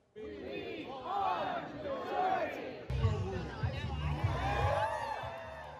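Large protest crowd at a No Kings march in Washington, D.C., rising voices shouting and chanting together in waves, loud and dense with overlapping cries throughout.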